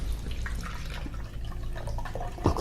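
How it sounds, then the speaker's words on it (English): Spring water poured into a blender for an almond drink, a steady close liquid trickle with dripping splashes, quiet and alone without talk. "we're going to add 3 cups of spring water"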